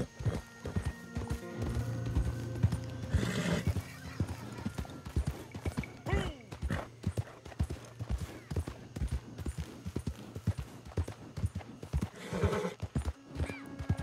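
A horse in the video game Red Dead Online gallops with steady, rapid clip-clop hoofbeats, breaking into loud whinnies twice along the way.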